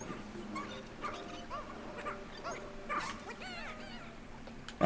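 A dog in the video game Pikmin 4 yelps and whimpers in short, high, wavering cries, several in a row, with a faint background hum and little else.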